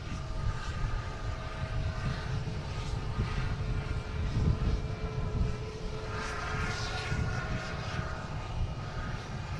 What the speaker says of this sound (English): we have a JetBlue coming in from Reagan